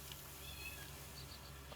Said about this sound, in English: You can hear a cat in the background that came in and joined me